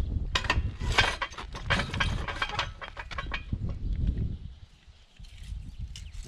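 A manual concrete block cutter's lever is pulled, giving close clattering, ratcheting and grinding mechanical clicks in dense bursts that ease off toward the end, with no talk over it.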